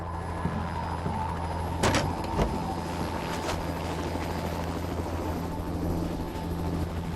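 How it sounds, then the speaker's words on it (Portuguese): A rescue helicopter lands in a jungle area, its engine and rotors making a steady, droning hum throughout, with a couple of brief thumps early on. "um helicóptero de resgate apanha Blake e pousa numa área."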